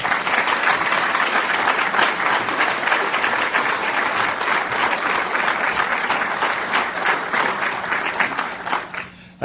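A lecture audience breaks into loud, sustained applause to welcome speaker Mark Steyn, the dense clapping holding steady for about nine seconds before thinning out at the very end.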